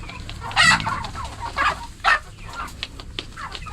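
Darag chickens on a farm cluck nearby in several short, loud bursts. Quieter bird calls and soft farmyard ambience fill the gaps between them.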